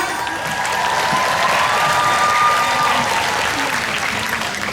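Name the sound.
audience applause at fan meeting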